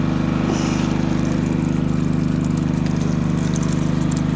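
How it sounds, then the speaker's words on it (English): A generator running on a houseboat on the Murray River gives a loud, close, unbroken mechanical drone with a fast pulsing throb and steady hum, and no voices. "Pardon the generator noise."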